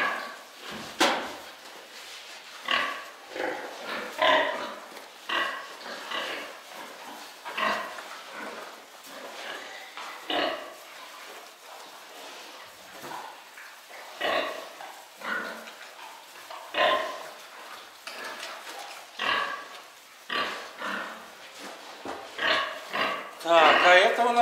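Newborn piglets squeal and grunt in bursts alongside low snorts from a sow during farrowing, with occasional knocks and a person talking quietly in Russian now and then.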